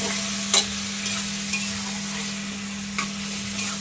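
Marinated chicken and garlic fry in hot oil while being stirred: a steady, close sizzling hiss with a few sharp spoon knocks against the pan.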